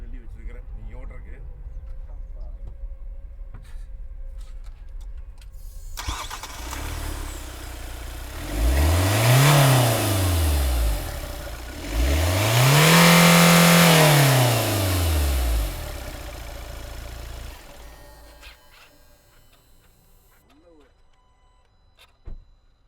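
A diesel car engine starts and revs twice in strong rising-and-falling sweeps, loud and close from inside the cabin, with the engine then settling to a steady idle; someone talks before and during it.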